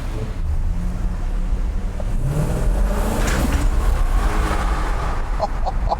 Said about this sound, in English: Wow, what a noise from a stock exhaust.